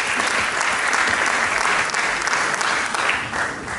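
Evening event audience bursting into loud, full applause for local officials, a thick continuous clatter of many hands that stays strong before easing slightly at the end.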